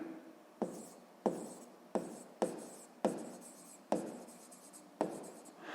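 Pen strokes on paper while writing out a sixth-grade math exercise on fractions, seven sharp, evenly spaced scratches each trailing off, close and quiet with no talking.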